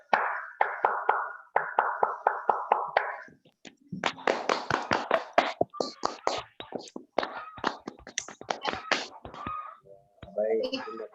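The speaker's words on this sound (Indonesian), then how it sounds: "Tepuk pramuka." Junior high school scouts in Samalantan perform the Indonesian pramuka clap, sharp group claps in quick rhythmic bursts with short pauses, mixed with voices chanting along in time.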